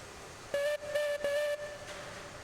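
A steam locomotive whistle sounds in Railroads Online as three short, clear tonal blasts in quick succession over a soft hiss.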